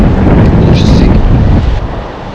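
Strong gusts batter a microphone outdoors at a dog park in Spain, a loud continuous roaring buffet that fills the whole stretch and eases slightly toward the end.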